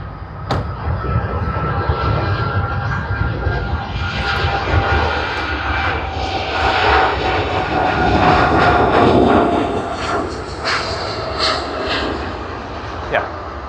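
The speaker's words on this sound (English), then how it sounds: "AI301 Sydney to Delhi service on the Boeing 787-8, registered as VTANO." Jet engines of an Air India Boeing 787-8 on the Sydney to Delhi service roar steadily at Sydney Airport, a loud, sustained rumble with shifting whine that fills the whole stretch, while a voice talks over it.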